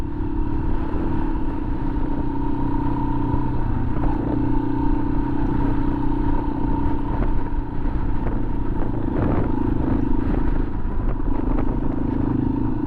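Motorcycle engine running steadily while riding through a mud patch and sandy ground on a camping trip, a constant close rumble with clattering bumps and no talk.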